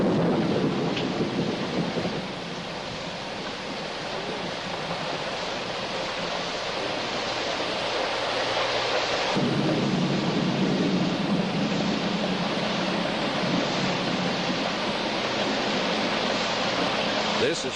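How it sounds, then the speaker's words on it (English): Heavy rain pours steadily at a hotel after four dry months, a continuous loud hiss that swells midway, with a rumbling thunderstorm feel beneath and a voice speaking over it. "they are enjoying the first decent rains in 4 months"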